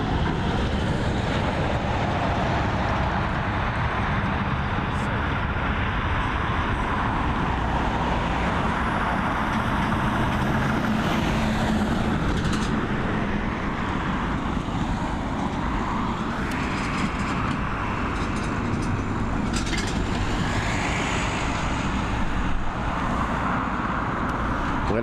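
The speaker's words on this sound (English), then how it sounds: "What a beautiful aircraft this Boeing 777 is. And what an amazing airline Emirates are." An Emirates Boeing 777 passes at Dublin Airport, a loud, continuous broadband engine roar that holds steady throughout with little rise or fall.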